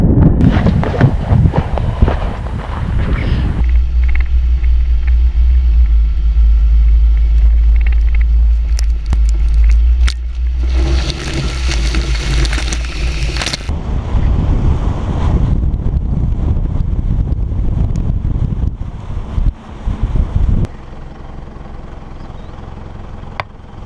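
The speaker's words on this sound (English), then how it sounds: "this wind's going to play havoc with the mic" Strong wind buffets the microphone on an open desert salt pan, a loud continuous low rumble with gusty surges and brief lulls, no voices.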